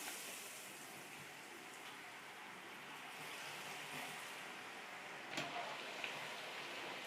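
Potato kurkure sizzles in hot oil, a soft continuous crackle and hiss with a few sharper pops, fairly faint and with no talking.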